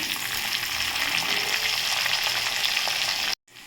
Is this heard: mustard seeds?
yes